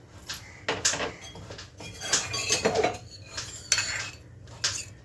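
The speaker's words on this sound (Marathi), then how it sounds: "सर्व भाज्या व्यवस्थित मिक्स करून घेऊया" Mixed vegetables stirred in a kadhai with a metal spoon, a series of close clanks and scrapes in irregular bursts with brief pauses between.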